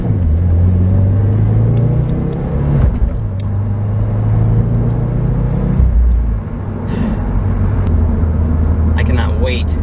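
A 2016 Subaru WRX with a twin-scroll turbo, still in break-in, accelerates gently without flooring it. Its engine gives a low, steady rumble from inside the car while someone talks over it.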